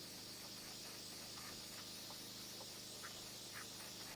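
A hydra facial skin care machine sprays water through its pipe to flush it clean, a faint continuous hiss with soft rhythmic pulses repeating about every half second.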